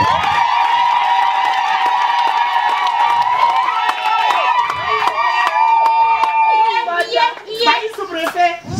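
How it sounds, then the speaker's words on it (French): A crowd applauds the sub-prefect at a donation ceremony. Someone speaks loudly over a public address at first, then a burst of scattered clapping rises near the end. "applaudissons d'abord pour Monsieur le sous-préfet."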